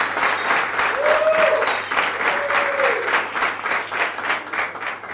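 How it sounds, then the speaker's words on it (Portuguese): A studio audience on a Portuguese-language show applauds to welcome a guest, with loud sustained clapping from a crowd and a few brief tonal cheers or whistles mixed in. "que eu quero que vocês recebam com muitos, mas muitos aplausos."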